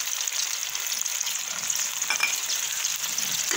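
Yogurt spooned into hot ghee with browned onions sizzles in a steady, close, continuous fry with no voices over it.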